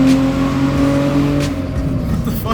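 Hyundai Tiburon exhaust revving hard under acceleration, a loud, close, steady engine drone with strong humming tones that stays continuous throughout.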